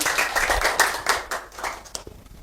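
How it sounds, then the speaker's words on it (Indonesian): Second-grade elementary classmates clap for a pupil after his science answer, a brisk burst of close, uneven handclaps that fades out after about two seconds. "Beri tepuk tangan buat Amirul dong."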